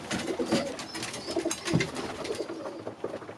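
Racing homer pigeons coo softly nearby, a few low rolling coos repeating over a quiet background with no talk.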